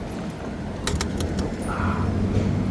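Cars pass along a road while someone waits to cross on foot, a steady low traffic rumble with a brief rattle partway through and nobody talking.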